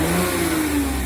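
A Daihatsu Ayla 1.0 engine revs in a short, close, loud burst, its pitch rising slightly and then easing.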